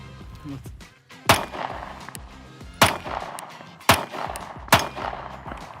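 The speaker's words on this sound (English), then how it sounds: "Let me shoot it again, see what happens." Compact 9mm pistol fired at a steel target, with four sharp, loud shots spaced about a second apart, each followed by a short ringing tail.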